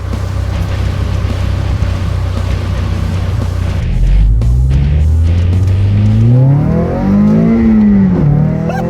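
A Toyota MR2 Spyder with a swapped 2AR engine accelerates hard in first gear, its loud, close engine note climbing steadily in pitch, dipping briefly and rising again over several seconds.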